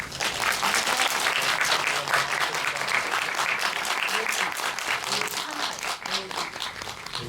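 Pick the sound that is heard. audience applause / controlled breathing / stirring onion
audience applause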